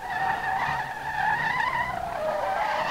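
Drift car in SLRR spinning its tires in place, a sustained loud squeal with a high whining tone that shifts pitch slightly, close and unbroken.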